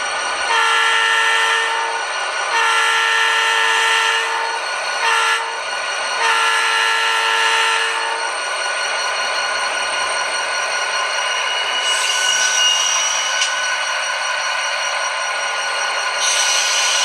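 HO scale EMD SD40T-2 tunnel motor model locomotive with onboard sound crawling at slow speed: a steady diesel engine rumble with repeated loud horn blasts that come and go, close and alone.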